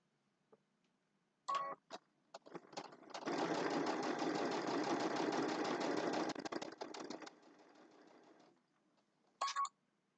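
A sewing machine stitches fabric in one steady burst of whirring and rapid needle clatter lasting a few seconds, framed by short clicks and brief stops before and after.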